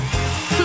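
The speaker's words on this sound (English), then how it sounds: "Now let's melt it with the help of a hairdryer." A hair dryer blows on marshmallows to melt them, giving a brief, loud, steady whirring rush of air with a slight shift in pitch partway through.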